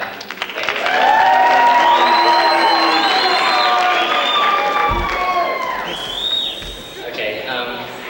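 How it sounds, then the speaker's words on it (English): A high school student body at a 1993 speech assembly cheers and claps: a loud crowd roar with whoops and shouting voices over scattered applause, swelling quickly and holding before tapering slightly near the end. "go ahead and cheer, boo, hiss, whatever. Clap."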